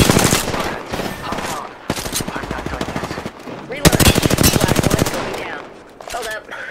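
Automatic weapons fire in Apex Legends: several rapid bursts of close, loud shots, the longest and strongest near the middle, separated by short gaps, with faint in-game voice chatter between them.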